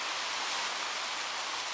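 Soft waves whispering against the shore of a secluded wild bay on Bulgaria's Black Sea coast at Rusalka, a continuous even hiss of water without talk.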